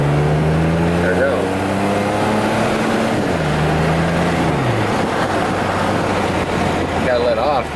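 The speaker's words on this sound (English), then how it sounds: "But the car, you hear it idling there a little?" A 1992 Mercedes-Benz 300E W124 engine idles with a steady low rumble, its pitch drifting down slightly and holding, loud and close, while someone talks over it.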